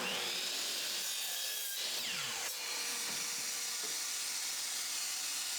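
A mitre saw cuts pallet wood at a five-degree angle to make stool skirts, giving a loud, steady whirring hiss with the pitch sweeping as the blade bites through the board, with no talking.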